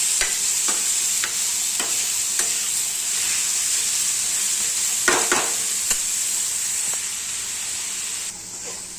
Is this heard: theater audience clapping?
no